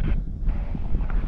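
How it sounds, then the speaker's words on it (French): Wind at a snowy mountain pass rumbles steadily and loudly against the microphone in one short, continuous gust-laden stretch. "Il y a un peu plus de vent quand même que quand on est arrivé"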